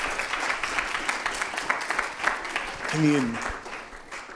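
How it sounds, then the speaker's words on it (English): Audience applause at a live talk at BYU, steady clapping from a crowd that carries throughout, with a voice briefly speaking over it near the end. "Everybody, a quick round of applause for Dr."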